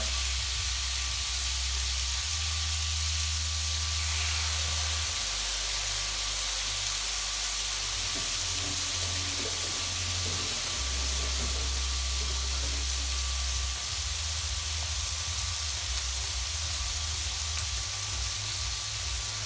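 T-bone steaks seasoned with salt, pepper and thyme sizzle steadily in a frying pan, a dense, even hiss and crackle that stays close and constant, with no talking.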